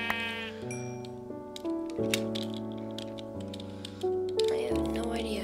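Repeated sheep bleats from Minecraft ring out clearly over droning game music, with sharp keyboard-like clicks scattered throughout.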